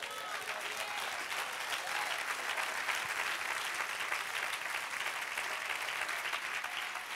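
Church congregation giving applause to the Lord during a sermon, a steady, full roar of many hands clapping together, even in loudness throughout with a faint background murmur of voices.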